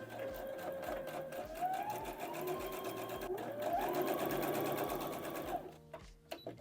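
A sewing machine stitches the front lining darts of a Burda skirt, whirring steadily and close for several seconds with a shifting motor pitch, then stopping and leaving a few soft mechanical clicks.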